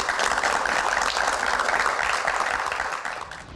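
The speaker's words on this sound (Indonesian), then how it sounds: "Baik, tepuk tangan." An audience applauds at a Q&A session with a singer, a dense, sustained wash of clapping that holds steady and then thins out toward the end.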